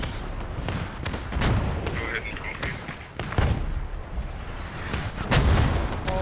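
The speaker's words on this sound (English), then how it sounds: "Gunshots just going off everywhere." Gunfire and heavy booms from the video game Post Scriptum crackle in rapid bursts, with deep thuds and explosions rolling through a dense, loud battle.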